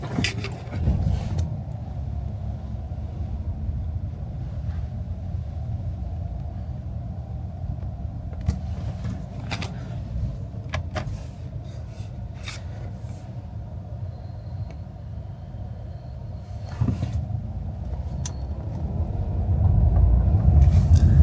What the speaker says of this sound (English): literally a car was coming, like coming towards me